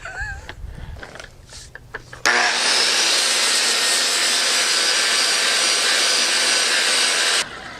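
An angle grinder fitted with a Rex Cut abrasive disc spins up and runs steadily with a loud, sustained high-pitched whine for about five seconds before cutting off, preceded by faint scraping and handling noises.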